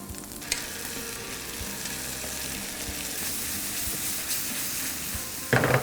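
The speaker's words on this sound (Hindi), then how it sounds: "now what we're gonna do is we're gonna add the tomato sauce to it" Tomato sauce hits seasoned ground beef in a hot pan, giving a steady, loud broadband sizzle throughout, with a sharp burst of added liquid near the start and another brief surge of bubbling at the very end.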